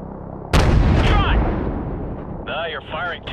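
A heavy boom of AC-130 gunship cannon fire in Modern Warfare Remastered, loud and rumbling as it decays, with radio chatter voices talking over it afterward.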